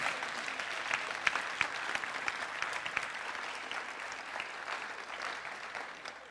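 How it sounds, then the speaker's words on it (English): An audience at a fire department awards and recognition ceremony applauds community partners, a steady sustained round of clapping from a sizable crowd, moderately distant and without speech. "A final huge round of applause, please, for all of our community partners"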